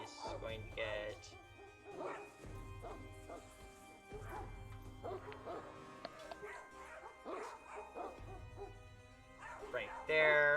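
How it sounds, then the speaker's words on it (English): Sound effect of several dogs barking repeatedly while running toward an entrance, a steady series of barks and yips over a low rumbling bed, with talk running alongside. "Gabriel, you hear barking and the sound of dogs running toward the entrance."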